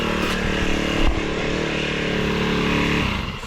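A 39 cc mini bike engine runs steadily while being ridden, a loud, continuous buzzing drone that holds a fairly even pitch, with one brief bump near the start and a slight drop in tone toward the end.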